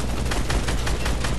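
Rapid bursts of video game gunfire from a zombie-themed shooter, a dense volley of repeated shots crackling steadily without pause, fairly loud and close, with no talking over it.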